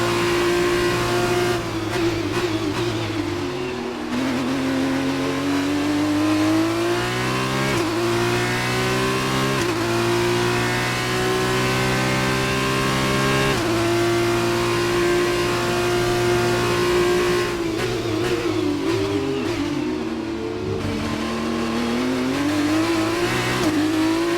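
Race cars from an F1 video game accelerate and rev continuously, with rising and falling engine pitch across gear shifts, loud and close, with no talk over them.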